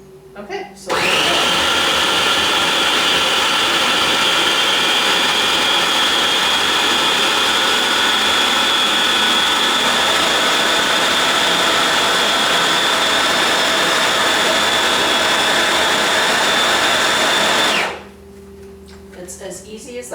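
A food processor purees cut fresh tomatoes, starting abruptly and whirring at a loud, steady high pitch for about seventeen seconds before cutting off, with quiet sounds before and after.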